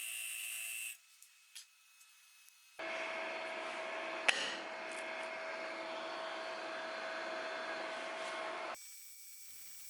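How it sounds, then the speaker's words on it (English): A vacuum chuck on a woodturning lathe, holding a curly maple bowl, runs as a steady droning whine and hiss that starts abruptly, holds for several seconds, then cuts off, with a sharp click partway through. "Here I'm using the vacuum chuck like I usually do."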